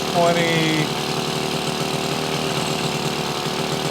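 Yamaha HS1 90 twin motorcycle engine idling steadily and close up after a brief rise in revs at the start, with speech over the engine.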